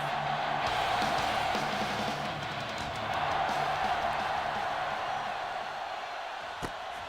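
Stadium crowd cheering at a football season kickoff, a sustained roar of many voices with scattered shouts, steady and fairly distant throughout.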